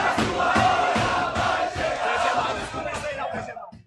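Football fans in a stadium crowd chant "Real Madrid pode esperar" in unison, a loud rhythmic mass of voices pulsing in regular beats before trailing off.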